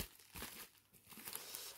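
Plastic wrapping on a rigid parcel from a Temu order crinkles and tears as it is pulled open, a quiet close-up rustling in several uneven bursts.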